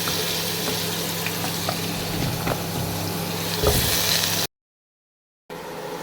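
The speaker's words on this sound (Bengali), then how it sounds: "এই যে আমার লাল লাল আলু ভাজা কিন্তু অলমোস্ট ডান" Potatoes fry in a kadai with a continuous, dense sizzle close up, a brief louder burst near the end, then a short silence before the sizzle resumes.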